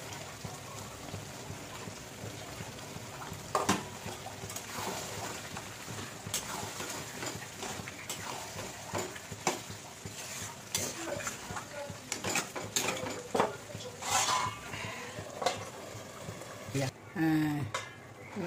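Mutton kosha with papaya stirred and fried in a pan, a steady sizzle with repeated scrapes and clinks of a spatula against the metal, close and fairly soft, with a person speaking at times.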